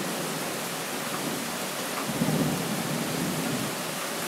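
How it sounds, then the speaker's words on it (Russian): Thunder rumbles through steady heavy rain in a summer thunderstorm, a low swelling roll building midway and fading back into the continuous downpour, with no voices. "Вот сейчас громыхнет."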